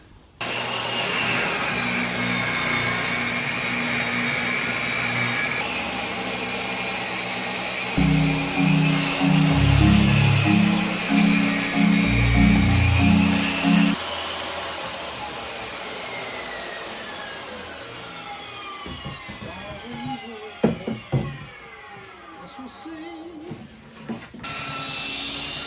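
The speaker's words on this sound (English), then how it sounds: "So we'll cut that piece." Power saw cutting a 5/4 wood piece for a rotten porch railing being rebuilt, a loud sustained whine with the pitch shifting as the blade works through the board, then winding down with clatter near the end.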